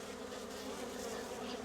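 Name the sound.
honey bees buzzing on a frame during honey harvest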